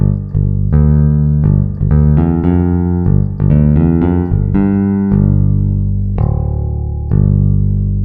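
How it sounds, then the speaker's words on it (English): A clean sampled electric bass from a virtual instrument plays a melodic line of plucked notes, some short and some sustained, loud and close with no other instruments. "It sounds like an electric bass, and it's a lovely electric bass at that."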